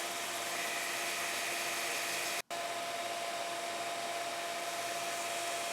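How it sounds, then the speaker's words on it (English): A belt grinder sharpens a circular cutter against the slack part of a flat belt: a steady, loud abrasive whir that cuts out for an instant midway, then resumes just as evenly. "I lifted it up to grind on the flat belt"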